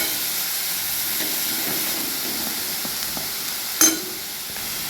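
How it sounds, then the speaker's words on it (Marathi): Mixed vegetables for momos sautéing in a pan, a steady soft sizzle and hiss with a few faint scrapes and one brief sharp clack near the end, no talking. "छान असं 1-2 मिनिटं परतून घेऊया"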